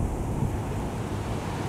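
Strong outdoor wind buffets the microphone near a pond on a stormy day, a steady low roar with gusty surges, loud and continuous with no voices.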